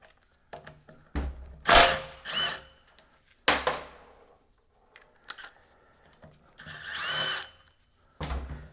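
A socket wrench turning the intermediate band adjustment nut on a 1999 Dodge 4WD transmission, with several short ratcheting bursts and metallic clicks separated by pauses, close and fairly loud.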